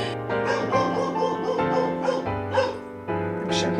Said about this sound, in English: it's setting my dog off like crazy